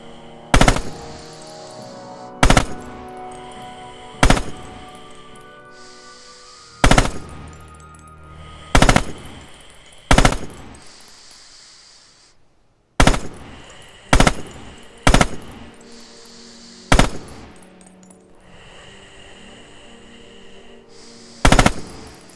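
Single shots from a rifle in the Rising Storm video game, fired one at a time at irregular intervals of about two seconds, each a loud sharp crack over a steady ambient hum, with a brief silence near the middle.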